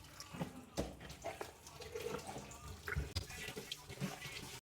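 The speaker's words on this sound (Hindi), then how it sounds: "तो अभी हमने इसको खुले पानी से सही तरह वॉश करना है" Running tap water splashes over raw chicken liver (kaleji) being rinsed clean in a kitchen, a continuous close wash with small clatters and no talk.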